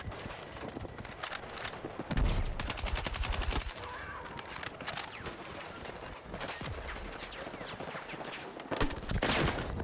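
A frag grenade explodes in Battlefield 6 amid dense gunfire, heavy booming blasts mixed with rapid machine-gun bursts and scattered shots in a loud, chaotic battle.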